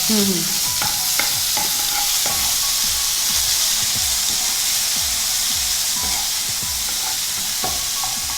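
Onion paste fries in a pan as the base of a curry gravy, giving a steady loud sizzle with repeated scraping stirs of a spoon against the pan throughout.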